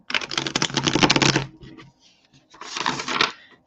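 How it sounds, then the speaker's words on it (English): Tarot cards being shuffled in two close, crisp bursts of riffling and flicking, the first longer, separated by a short quiet pause. "one more shuffle"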